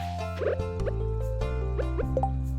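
Water pours into a pet's bowl in the farming video game Stardew Valley, a few quick bubbly plops and drips over the game's steady background music.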